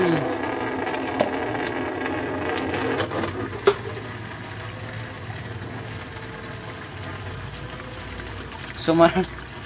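Coolant drains from the radiator of an N04C engine as a soft, steady watery hiss and trickle under workshop noise, with a brief sharper spurt near the end and people talking around it.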